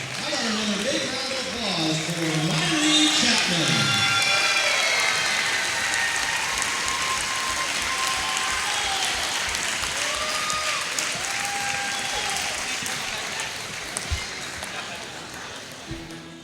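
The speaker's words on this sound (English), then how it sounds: "How about another big round of applause for Myrie Chapman?" Arena crowd applauds a basketball player being honored at a college game, sustained clapping and cheering that fades gradually, with some whistles or tonal sounds and voices mixed in early, plus occasional ball thuds near the end.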